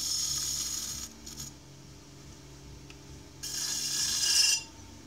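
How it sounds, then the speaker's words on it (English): A metal pottery tool scrapes the bottom of a clay ramekin turning on a wheel, producing a harsh, high grating screech in two bursts over a steady low wheel hum. "Started using this metal tool recently to clean off the bottoms. It makes a horrible noise,"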